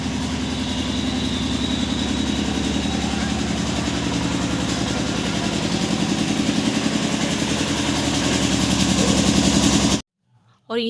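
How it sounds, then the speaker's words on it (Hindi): A loud generator runs steadily at a wedding, its low engine drone and mechanical hum filling the scene for about ten seconds before cutting off abruptly into near silence, with a brief burst at the very end. "यहाँ जी जनरेटर की इतनी तेज़ आवाज़ हो रही थी, बहुत ज़्यादा"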